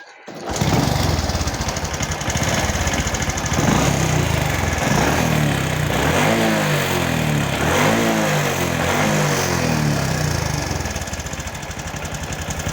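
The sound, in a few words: Honda Supra X 125 motorcycle engine started and running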